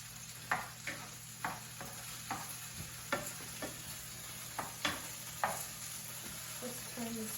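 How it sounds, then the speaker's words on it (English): A spatula scrapes and knocks through vegetables in a frying pan while noodles with eggs and pepper are cooked, the sharp irregular clacks landing about twice a second over a soft, steady sizzle. "it's time to stir the vegetables"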